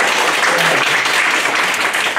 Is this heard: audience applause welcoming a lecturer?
yes